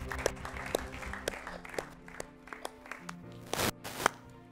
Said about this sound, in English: I want you to give yourself a round of applause for being part of this show